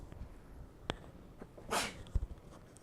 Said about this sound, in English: give me a second until I gotta sneeze again